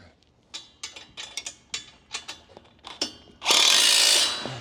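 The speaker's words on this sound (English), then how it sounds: "take your 14 millimeter 9/16 bit, attach it to your drill" A cordless drill with a 14 mm (9/16 in) socket bit drives bolts on a leg press machine during assembly, heard as short repeated bursts and clicks followed by one longer, loud whirring run near the end.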